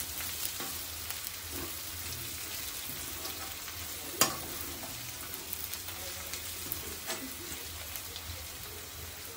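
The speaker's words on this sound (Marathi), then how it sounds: "आता आपला कांदा चांगला परतलाय." Chopped onion for a mutton curry frying in a pan, a faint continuous sizzle with occasional stirring scrapes and one sharp clink.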